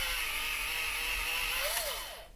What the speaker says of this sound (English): I'm just going to sharpen it with my electric eraser